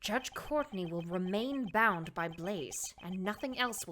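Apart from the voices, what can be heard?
None of the usual background noises is heard.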